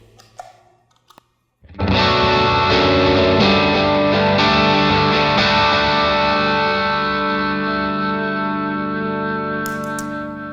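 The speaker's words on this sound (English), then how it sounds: "And here is my signal with reverb and delay engaged" A distorted electric guitar chord rings out after a brief quiet start, sustaining with lush delay and reverb that slowly fades.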